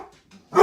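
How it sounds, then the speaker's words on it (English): A single loud dog bark comes up near the end after a short stretch of near silence, close and sharp. "my dog is barking"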